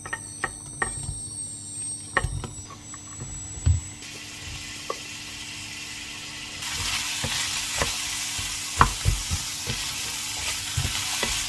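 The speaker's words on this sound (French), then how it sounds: "Je vais mettre un petit peu l'huile d'olive pour faire revenir les légumes." Onion, beans and chickpeas sautéing in olive oil in a pan, a steady close sizzle broken by repeated stirring scrapes and clicks of a utensil, growing louder partway through.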